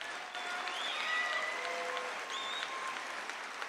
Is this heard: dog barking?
no